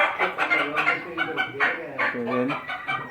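Brahma chickens on a farm in Kuwait cluck in quick, busy bursts close by, with overlapping calls from several birds and people talking in the background.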